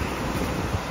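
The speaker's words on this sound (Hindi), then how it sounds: "ये देखें ना कितनी ज़बरदस्त हवाएँ चल रही हैं" Strong wind gusts buffet the microphone at the Murree hill station, a steady, dense roar of noise with no voices over it.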